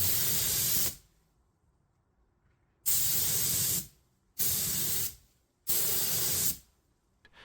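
Spray gun laying a light coat of car paint over a primed area in a home garage, four sustained broad hissing bursts separated by short pauses, close and loud, with no talk.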